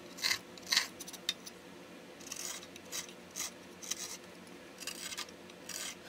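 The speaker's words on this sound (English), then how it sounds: "I'm cutting across the grain" A sharp hand tool shaves across the grain of a wooden spoon blank on a spoon mule, giving short scraping, rasping strokes in irregular bursts, close and fairly quiet.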